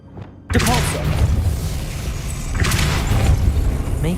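A Depulso spell cast in the video game Hogwarts Legacy: a sudden loud burst erupts after a brief quiet start, then a dense rumbling whoosh carries on, with a second swell near the end.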